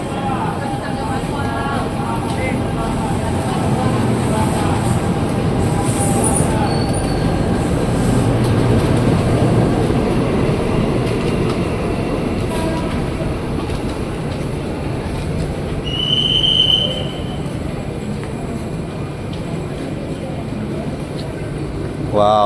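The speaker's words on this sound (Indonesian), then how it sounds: "KRL Inka kita berangkat dari jalur 10 stasiun Manggarai" An Indonesian-built INKA KRL electric commuter train departs platform 10 at Manggarai station, heard from inside as a loud, steady rolling rumble with faint squealing tones and rail clatter throughout.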